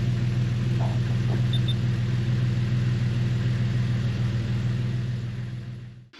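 A car engine idling after an oil change, a steady low hum and rumble up close that fades and cuts off at the end.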